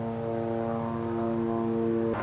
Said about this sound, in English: Of all days, a helicopter wants to fly over the house.